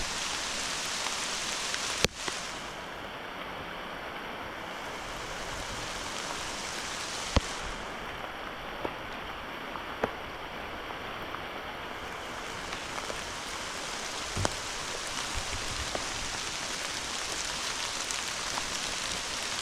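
Steady rain falls during an outdoor walk, a continuous dense hiss with occasional sharper drips and taps, close and even throughout with no talking.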